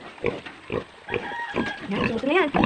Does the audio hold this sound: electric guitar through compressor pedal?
no